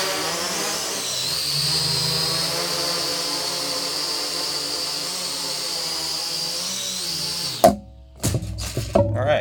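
A hexacopter drone hovers indoors with a loud, steady, whining buzz of its rotors for most of the stretch, then cuts off abruptly into clattering knocks and short bursts near the end.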